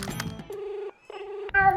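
A mobile phone ringtone repeats in two clear bursts with a short gap between them, with a voice and other voices talking over the start and end.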